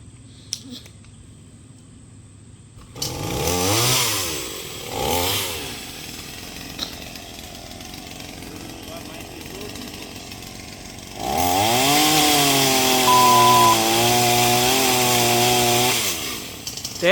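A new chainsaw bought from Lowe's cuts down a tree outdoors, its motor revving loudly in two long bursts with a quieter idle between, close to the listener with little talk.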